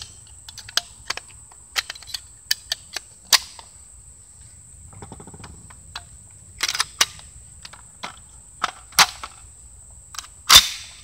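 An SDS Lynx 12 shotgun with its dust cover on fired rapidly into dirt, a series of sharp, fairly distant cracks at irregular intervals, with several louder blasts standing out among quieter clicks.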